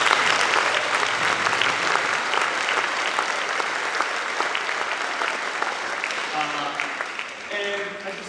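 Audience applause for a middle school band at a spring band concert, a dense, steady clapping that fills the whole clip and fades slightly toward the end, with faint voices underneath.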